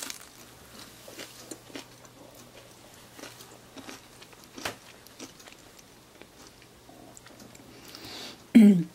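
Close, crisp crunches of someone biting into thin, crunchy Kashi mushroom and spinach pizza crust and chewing, with quiet sparse sounds between bites and a louder crunch at the end.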